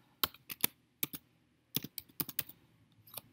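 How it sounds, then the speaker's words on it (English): Keystrokes on a computer keyboard at a desk, sharp close clicks in uneven clusters with short gaps between bursts, quiet background otherwise. "Let's type in Bezier here."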